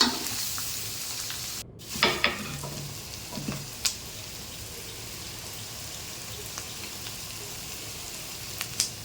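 Onions fry in a pan with salt and turmeric for mango rice, a steady low sizzle dotted with occasional sharp clicks and scrapes from stirring.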